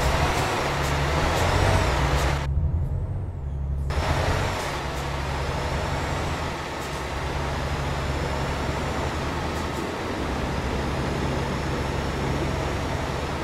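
Trucks racing in the Euro Truck Simulator video game: a steady, loud engine drone with low rumbling tones that holds throughout, with a brief drop near the start, and no talking.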